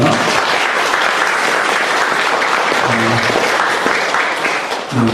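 A church congregation bursts into steady, dense applause to welcome a newly registered young member during a Korean Presbyterian service, the clapping sustained and full throughout, with a brief voice near the end.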